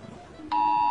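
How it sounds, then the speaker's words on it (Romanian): A phone alert starts suddenly mid-way, a loud steady electronic beep tone held to the end over faint background noise. "numai puțin că-mi sună rău alertul"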